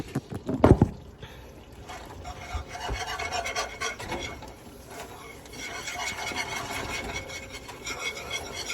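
A flour roux being stirred in a pot for Louisiana gumbo, making a steady scraping rasp of spoon against the pot bottom, close, with an opening clatter and continuous rubbing afterward.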